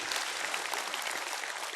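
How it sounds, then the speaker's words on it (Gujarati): Applause from a youth assembly audience fills the short span, a dense, even wash of many hands clapping at once, steady and fairly faint in level. "જોરદાર તાળીઓ."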